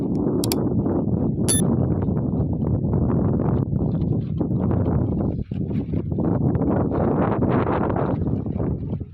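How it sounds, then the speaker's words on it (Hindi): A steady, cold wind blows through a snowy mountain valley with a constant roaring rush that buffets the microphone. Brief rustling and faint thumps sit under it, and no one speaks. "ठंडी यख हवा चल रही है जी।"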